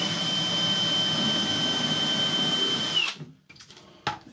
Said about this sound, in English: It's got to drill a pilot hole up through to join the base to the upper.